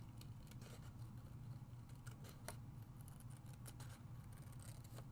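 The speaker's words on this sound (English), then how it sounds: "I'm going to cut this out with my scissors" Scissors snip through paper in a series of quick, close crisp cuts over a low steady background hum, with no talking.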